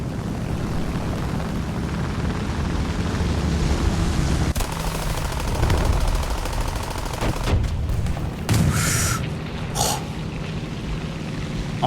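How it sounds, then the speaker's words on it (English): Aircraft guns in War Thunder fire at ground targets, rapid bursts of automatic fire over a constant engine drone, with sharper cracks and short volleys toward the end. "I'm just kind of wasting my machine gun ammo unless it's an open top"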